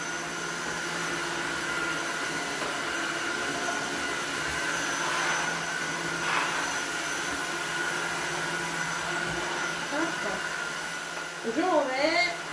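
An Osotek H200 Lite wet vacuum cleaner on a stronger setting, giving a loud, continuous roar. Someone talks over it near the end.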